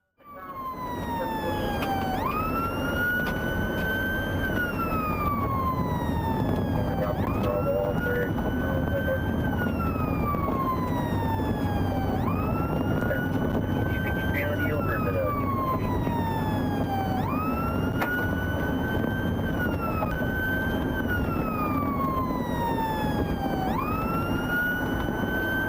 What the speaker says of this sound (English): The sergeant activated his emergency lights and siren to signal the driver to pull over